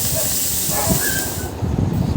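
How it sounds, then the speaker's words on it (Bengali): Hilsa fish fries in an overheated wok, filling the clip with a loud, dense hissing sizzle that swells with bursts of crackling toward the end. "মা আবার এদিকে মাছ মাছটা ছেড়ে দিচ্ছে কারণ কড়াইতে বেশি গরম হয়ে গেছে"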